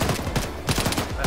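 In a military shooter game, dense rapid gunfire cracks out in quick repeated bursts, loud and close throughout, with brief speech mixed in.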